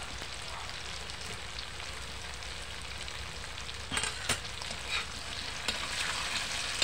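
Tofu frying in a pan gives a steady, close sizzle with a few sharper crackles and stirring scrapes near the end.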